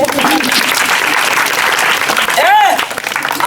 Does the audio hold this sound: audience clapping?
yes